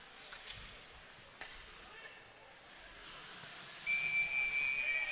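A referee's whistle blows sharply and steadily near the end during a college ice hockey game between Ferris State and Central Michigan, rising over arena crowd noise and commentary.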